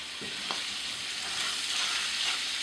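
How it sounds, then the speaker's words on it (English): Mushrooms saute in a pan with marsala wine, a steady close sizzle and crackle with a couple of brief stirring scrapes early on. "Your mushrooms are cooking great"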